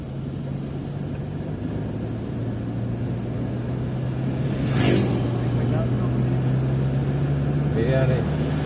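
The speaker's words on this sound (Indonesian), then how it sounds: "Tuh, mobilnya sampai meraung-raung dari bawah suaranya." A car climbs a steep alternative mountain road near the Sempor reservoir in first gear, its engine droning and straining steadily at close range, with a short louder surge midway and faint voices talking underneath.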